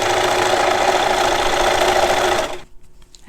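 A sewing machine runs steadily, stitching a fabric ruffle onto a dress with a loud, continuous mechanical whir that cuts off abruptly near the end.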